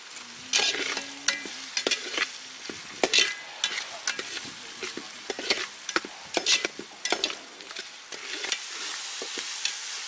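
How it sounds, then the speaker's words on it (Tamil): Onions sautéing in a pan for a village-style mole crab masala, with steady frying sizzle and repeated scraping, clattering stirs of a spoon against the pan throughout, fairly close. "காய்ச்ச உடனே பல்லாரி போட்டு நல்லா ப்ரௌன் கலரில் வதக்க போகிறாரு"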